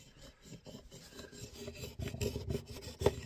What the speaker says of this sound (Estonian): Saviplänikud sai nüüd kiviga ilusti üle hõõrutud, siledaks